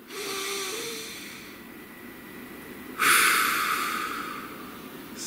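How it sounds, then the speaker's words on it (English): A deep, slow breath drawn in and let out, close and fairly loud, with a sharper rush of air about halfway through before it trails off, with no talking. "Please take a nice deep breath."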